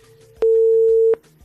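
A telephone line tone on a radio call-in show after a caller drops: a single loud, steady electronic tone holds for under a second, with faint studio sound around it.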